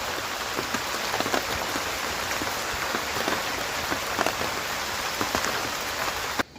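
Steady, heavy rain pours down in a hillside village in the hills, a dense continuous hiss of drops on surfaces, loud and close, with no voices, cutting off abruptly at the end.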